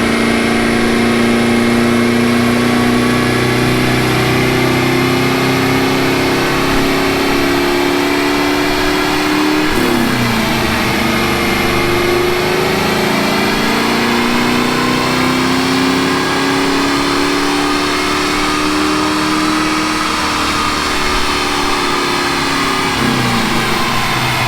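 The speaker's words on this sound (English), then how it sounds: "That was just him testing the car out, doing some data logs, just running it through the gears a little bit." Mustang on a dyno, engine revving hard through the gears in a continuous, loud pull with rising and falling pitch and a brief dip midway, no voices.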